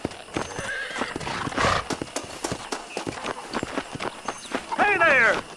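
In the video game Red Dead Redemption, hooves clip-clop in a quick, uneven run, then a horse whinnies loudly near the end, with a faint background bed throughout.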